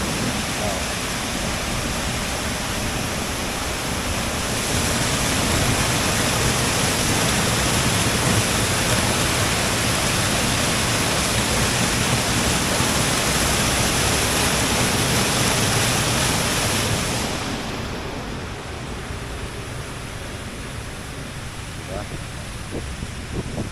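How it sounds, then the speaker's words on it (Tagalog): An artificial waterfall in San Jose, Batangas roars as a continuous broadband rush of falling water, steady and loud, with a person talking over it. "artificial na artificial na ano waterfall ayan artificial na waterfall diba"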